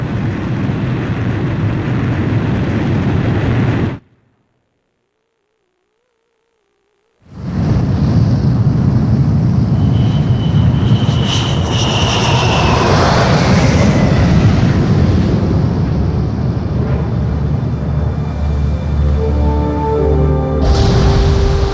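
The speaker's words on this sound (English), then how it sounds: "Aircraft launch confirmed." In the Ace Combat 5 video game, a ship's catapult launches aircraft as a loud, roaring engine and rushing wind surge and build into a rising whine, broken by a silent gap early on.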